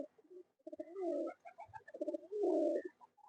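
Madrasi pigeons coo softly and close by, two rolling, throaty phrases with a short pause between them.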